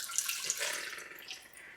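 Gasoline trickles and splashes from a gas can into a carburetor float bowl on a 1962 AMC Rambler, a short, soft, liquid pour close by with light dripping.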